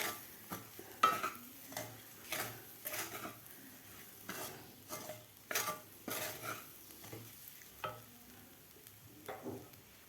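Repeated scraping strokes of a spoon stirring sugar into moong dal sheera in a pan, steady and close, with a faint sizzle underneath and no voices.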